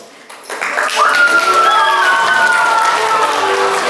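Applause for a 7th-grade school team receiving an award at a school haka contest swells in after a quiet start, with a sustained ringing, tonal sound layered over the clapping.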